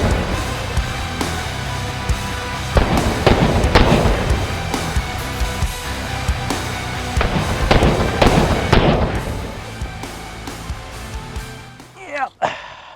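A machine gun firing multiple 30-06 rounds at White Claw cans outdoors: rapid, dense bursts of loud cracking shots with booming echoes, easing off toward the end, with a few final sharp reports.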